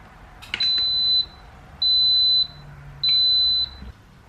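An Instant Pot being set to pressure cook gives three long, steady, high-pitched beeps, each lasting about half a second and spaced evenly apart, clear and close in a quiet kitchen.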